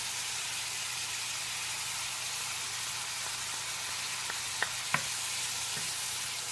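Minced garlic and chopped green onions sizzle in a hot pan with browned meat and drippings, a loud steady hiss with a few faint clicks of stirring near the end.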